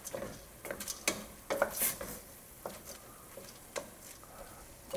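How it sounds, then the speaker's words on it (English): Shrimp risotto being stirred in a pot: a spoon scrapes and taps against the pot in a loose, irregular rhythm over a quiet background, close and moderately loud, with no talking. "Make sure you're giving it a good stir."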